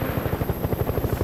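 A helicopter in flight, its rotor beating in a fast, steady rhythmic thump, loud and close with no voices over it.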